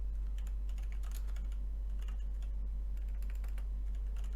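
Commands typed on a computer keyboard in quick, uneven bursts of close key clicks over a steady low electrical hum, with no talk.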